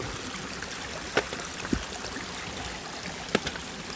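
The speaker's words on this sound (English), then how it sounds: "Just coming up to this very cool little water crossing." A small stream runs across a hiking trail at a rocky water crossing, giving a steady, close babble of trickling water with a couple of brief knocks or splashes.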